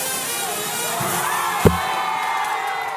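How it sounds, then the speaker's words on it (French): A crowd in Portsmouth cheers and whoops while Confederate statues are torn down, a steady roar of many voices with one sharp thud partway through. "Sous les hurrahs de la foule, ces statues de confédérés à Portsmouth sont détruites une à une."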